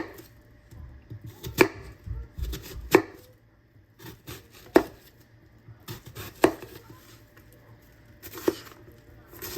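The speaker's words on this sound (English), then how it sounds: "Let's dice up this onion." A knife dices an onion on a cutting board, giving sharp, evenly spaced chops about once every second or two, close and clear over faint background noise.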